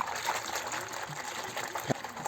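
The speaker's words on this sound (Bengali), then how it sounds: "অল্প কিছু পানি নিতে হবে কিছু পানি দিয়ে দিলাম" Water poured over a pigeon being bathed, a soft trickling and splashing that runs quietly and unevenly, with a brief sharper splash near the end.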